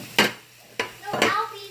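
Vegan sausage is stirred into frying rice in a pan. Three close, scraping stir strokes rise over a low sizzle.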